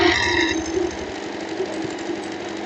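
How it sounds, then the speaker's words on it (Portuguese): A sewing machine stitches the lining into the middle seam of a long boho dress, running with a steady fast mechanical chatter and hum, close and continuous throughout. "você já vai costurar nesse meio o teu forro"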